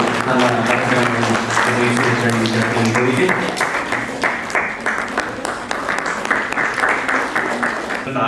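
An audience at a Kannada literary awards ceremony claps steadily throughout, with a voice and tonal sounds over the first few seconds before the applause carries on alone.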